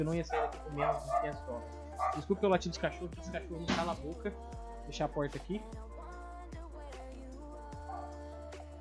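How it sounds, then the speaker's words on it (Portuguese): Dogs barking repeatedly in the background, a string of sharp yips and woofs at a moderate distance, heard under and between someone talking, with a steady low hum underneath. "Desculpa pelo latido dos cachorros"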